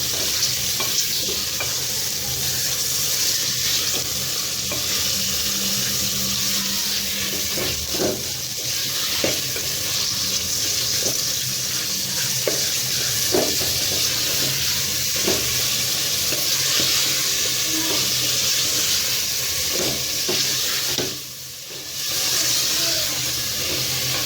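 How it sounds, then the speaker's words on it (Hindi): Minced keema fries in a pan over a long stretch, a continuous loud sizzle and hiss broken by repeated scrapes and clinks of a stirring spoon, close up. "अब हम इसके अंदर कीमा ऐड करेंगे और कीमा ऐड करने के बाद हम इसे अच्छे से एक दफ़ा मिक्स कर लेंगे।"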